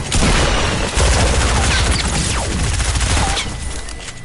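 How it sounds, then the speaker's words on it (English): Rapid bursts of gunfire in the video game Fortnite, loud and close, with dense overlapping shots and booming impacts rattling across several seconds before tapering off. "He shot at me."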